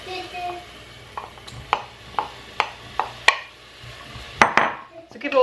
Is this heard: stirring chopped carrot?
yes